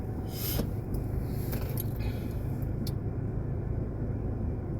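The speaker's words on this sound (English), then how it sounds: "So you might hear the AC running." Steady low rumble of a car's air conditioning blowing inside a parked vehicle, a constant hum with faint rustles.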